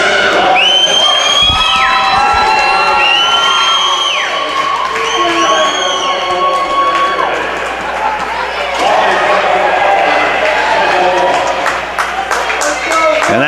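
Loud, continuous crowd roar with cheering, whoops and shouts fills a rink at a girls' high school ice hockey championship, swelling and staying dense throughout, with whistle-like shrieks rising above the din.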